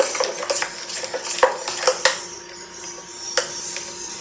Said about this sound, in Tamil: இப்போ இதை நல்லா கலக்கி விட்டுக்குங்க.